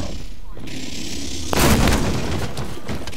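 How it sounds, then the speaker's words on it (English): A grenade explodes in the Killing Floor video game, a single broadband blast arriving about halfway through with a rumbling tail that fades into a steady background hum. "And that was a grenade."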